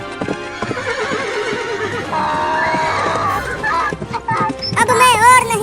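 A horse whinnies loudly and hooves clip-clop at a lively pace, with background music and shouting voices over the galloping, ending in a rising high neigh.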